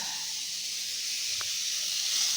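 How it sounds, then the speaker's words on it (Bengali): Pointed gourd (potol) slices fry in a pan with a steady, broad sizzle and hiss, fairly close and unbroken, with one faint small knock in the middle. "আর এই যে পটল ভাজা হচ্ছে"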